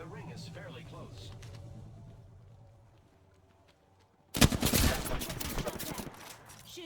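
Video game gunfire on PC: a quiet spell of low ambience and talk, then an abrupt, loud burst of rapid shots and automatic fire that continues to the end.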